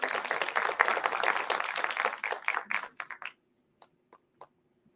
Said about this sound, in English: clap your hand for your amazing answers